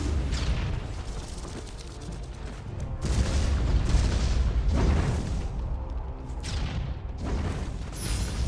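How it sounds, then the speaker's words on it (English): Two cannons firing cannonballs in a strategy video game battle, a series of deep booms and blasts at irregular intervals over a continuous rumbling backdrop, with some mechanical clatter. "build those 2 cannons and start firing"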